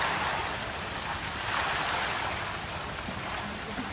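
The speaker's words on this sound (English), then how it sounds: "And of course the famous water fountain here." Water from the famous fountain inside the Burj Al Arab hotel splashes and rushes in a steady, dense wash that fills the space, even and continuous with no voices.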